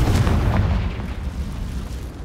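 A Confringo blasting-curse explosion in the game Hogwarts Legacy, a loud, heavy low boom that rumbles on and fades slowly, with no voices over it.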